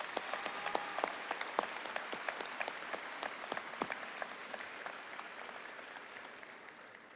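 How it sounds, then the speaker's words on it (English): Scattered, fairly faint applause from the crowd at a Southeast Missouri State University spring commencement ceremony, individual claps distinct and tapering off toward the end, with no talk. "So give Dr. Holman another round of applause, please."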